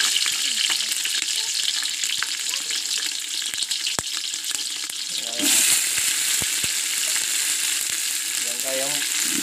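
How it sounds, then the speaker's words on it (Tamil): Onion, tomato and green chilli sauté together in a pan at an outdoor village kitchen, with a loud, continuous sizzle and occasional clinks from the spoon as the mixture is stirred. "வெங்காயம், தக்காளி, இல்லைன்னா பச்சை மிளகாய் போட்டாங்க. எல்லாத்தையும் ஒன்றா போட்டு இப்போ வதக்குறாங்க."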